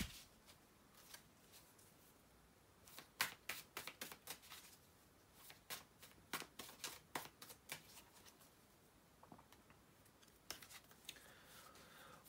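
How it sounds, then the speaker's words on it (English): Tarot cards riffle and slap together in quick, crisp bursts, close and quiet, with short pauses between shuffles. "to do the shuffling here for a couple of seconds"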